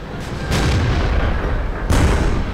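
Heavy explosions boom in World of Tanks, two loud blasts over a constant low rumble of battle noise.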